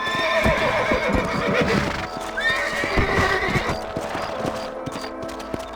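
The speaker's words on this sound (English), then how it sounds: "Let's get back on the horses and see what else is going on." Horses in the video game Red Dead Redemption neigh and whinny over a steady run of clip-clopping hooves, loud and close, with a layer of background ambience.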